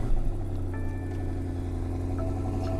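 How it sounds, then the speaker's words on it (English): A 2020 BMW M550i V8 with quad-tip exhaust idles close by, a steady low rumble with a smooth, even hum and no revving. "Sounds kind of like a stock V8."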